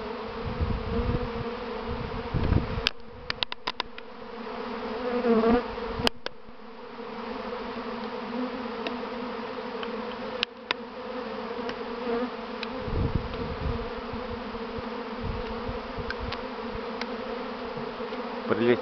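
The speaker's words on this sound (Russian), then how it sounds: "Прилетела злая пчела, пытается укусить фотоаппарат наш." Dense, steady buzzing of a swarming bee colony fills the air, loud and continuous, with occasional sharp clicks and knocks near the microphone.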